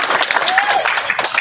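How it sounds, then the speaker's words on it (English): Applause from a webinar audience for participants who answered a question about trustee's deeds, a short burst of dense, steady clapping heard close and alone. "So give them a round of applause right now."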